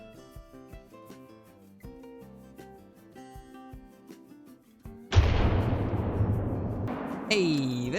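A hunting rifle fires once in the video game Call of the Wild, a single loud boom with a long rolling tail, following soft music and quiet game sounds.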